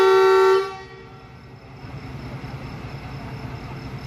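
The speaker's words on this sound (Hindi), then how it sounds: "147 अब मियाँ वाली एक्सप्रेस ने डिपार्चर के लिए हॉर्न दिया" A loud, steady train horn blast sounds for about half a second at departure and cuts off, leaving a low rumbling background.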